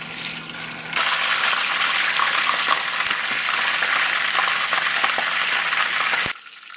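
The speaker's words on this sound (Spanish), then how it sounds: "Lo ponemos a freír ahora." Washed chicken pieces drop into hot oil in a pot, and a quiet hum jumps to a loud, even sizzle that crackles on for several seconds before cutting off abruptly.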